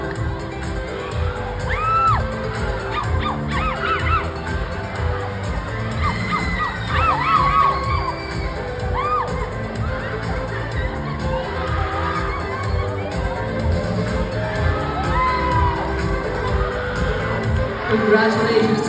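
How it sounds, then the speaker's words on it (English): A loud crowd at a school pageant cheers, shouts and whoops over continuous background noise for the first runner-up, with excited high-pitched voices rising above the din throughout. "Let us give him a round of applause"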